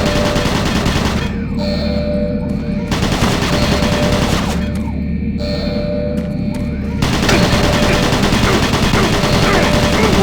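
Rapid automated turret gunfire from the video game Doom 3 BFG Edition rattles in dense, sustained bursts with brief breaks, loud and close over a continuous low rumble.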